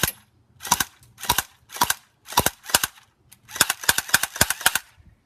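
An H&K P30 airsoft pistol fires at a piece of wood, giving sharp snapping shots in a stop-start rhythm: single shots spaced apart, then a faster run of about eight, close and alone without talk.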